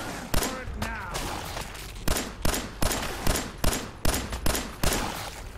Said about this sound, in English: Okay, let's just use my pistol.